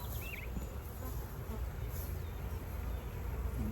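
A dense, continuous buzz of many honeybees on a hive frame fills the space, close and steady, with a few brief higher chirps flickering over the drone.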